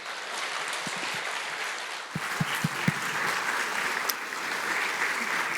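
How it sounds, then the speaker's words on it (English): An audience at a talk on democracy and culture with Fareed Zakaria claps steadily throughout, a dense even roar of applause with a few sharper nearby claps in the middle. "the applause really says it all"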